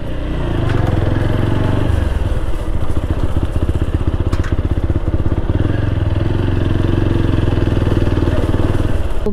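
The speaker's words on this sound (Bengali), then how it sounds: "আমার বাইকের থেকে এত পরিমাণে আওয়াজ বাড়াচ্ছে ভাই" A TVS Apache RTR 160 motorcycle engine, recently serviced, runs loud and steady with a rough, clattering throb that holds unbroken for the whole stretch, up close and with no voices.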